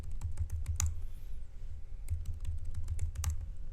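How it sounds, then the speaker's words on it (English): Rapid keystrokes on a computer keyboard as a password is typed, a close, steady run of clicky taps with a few brief pauses, no talking. "To ask you the password, so you just key in password"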